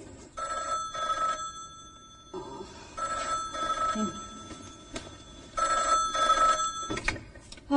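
An old-style telephone bell rings in a home in a 1998 Hindi film, sounding in several repeated bursts of ringing with short gaps between them, moderately loud and close.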